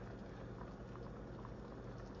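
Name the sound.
curry simmering and bubbling in a pot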